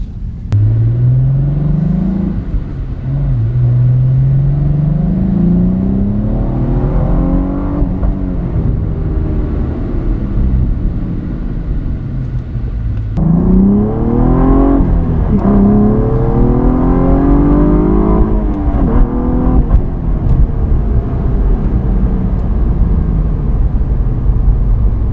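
A 2016 Cadillac ATS-V sedan with a manual gearbox revs and accelerates through the gears, rising and falling in pitch, loud and close with a continuous rumble.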